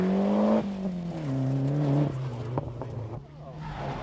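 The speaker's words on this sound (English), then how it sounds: "8 seconds behind Cullen comes the second Shell car driven by Isle of Man resident Martin Rowe." A Shell-sponsored rally car driven by Martin Rowe on a stage of the 1994 Ulster Rally, its engine note climbing and falling loudly as it passes close by, with a commentator talking over it.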